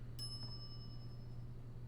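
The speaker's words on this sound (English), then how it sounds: "some idiot's already ringing that stupid bell" A single bright ding of a service bell rung at a shop counter in the game Monkey Island: Special Edition, its clear ringing tone decaying slowly over quiet background hum.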